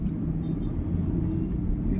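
Congested city road traffic rumbles around a vehicle inching along beside a lane of motorcycles, with a low, continuous engine drone and no speech.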